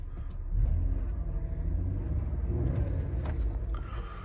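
A Renault Vel Satis with a 3.5 V6 engine runs smoothly at close range, a steady low rumble with a slight swell in revs, heard alone without talk.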